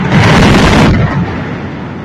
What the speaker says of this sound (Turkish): Birinci patlama oldu.